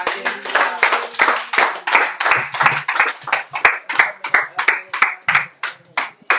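Congregation in a church service clapping in a steady rhythm to acclaim the Lord, loud, close, sharp handclaps repeating evenly throughout.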